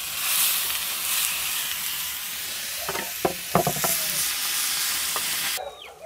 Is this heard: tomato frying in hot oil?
yes